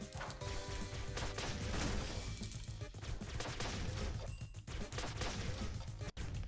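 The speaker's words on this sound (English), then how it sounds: "Oh, those are rockets." Rockets fire in the video game Flinthook as a dense, loud barrage of blasts and crashing impacts that runs almost without a break.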